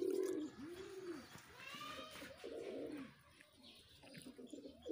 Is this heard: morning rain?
no